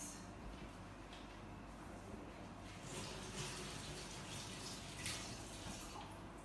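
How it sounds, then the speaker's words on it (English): Tap water runs steadily at a sink during handwashing in a home kitchen, a soft continuous splashing hiss with a few brighter surges, fairly close and with no talk over it. "Now we're gonna go wash our hands."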